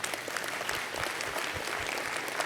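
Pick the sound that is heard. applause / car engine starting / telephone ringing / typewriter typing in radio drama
applause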